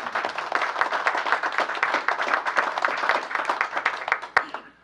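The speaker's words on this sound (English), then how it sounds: "I think it deserves a round of applause." The audience at a city council meeting applauds, a dense patter of many hands clapping at moderate volume that tails off at the end.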